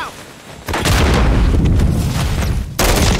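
Grenade explosions in the video game Call of Duty Modern Warfare III: two loud, heavy booms, the first bursting out after a quieter stretch and rumbling on, the second striking near the end.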